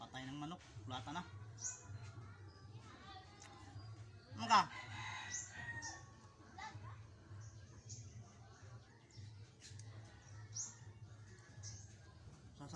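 A rooster crows faintly in the background among scattered clucks and other farmyard bird sounds, with people talking softly nearby.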